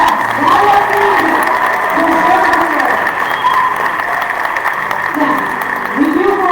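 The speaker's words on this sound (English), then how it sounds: "let's give them a big round of applause" An audience at a queen's coronation event applauds the Royal Court with steady, full clapping and some cheering, while voices rise and fall beneath the sustained applause.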